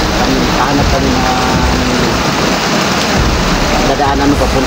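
Heavy rain arriving outdoors, a loud, constant wash of hiss and roar mixed with wind-like rumble, steady throughout.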